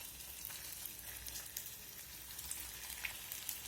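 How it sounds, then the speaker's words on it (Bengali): Rolls deep-fry in hot refined oil in a wok over lowered flame, a soft, steady crackling sizzle with small bursts of popping throughout. "এখন একে একে রোলগুলো তেলের মধ্যে দিয়ে দেবো।"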